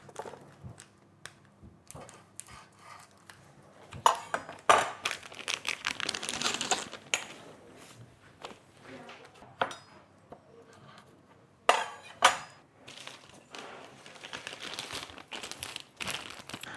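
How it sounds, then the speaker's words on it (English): Old baking parchment crinkled and folded into an icing bag for decorating a fruit loaf cake; close, intermittent crackling and rustling bursts separated by quieter handling. "Just using a little bit of old baking parchment."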